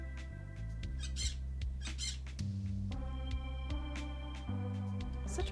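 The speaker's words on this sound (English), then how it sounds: "Such pretty birds." Cartoonish birds squawk in the Stardew Valley video game, a string of short, bright calls repeating over soft, steady game music with low bass notes.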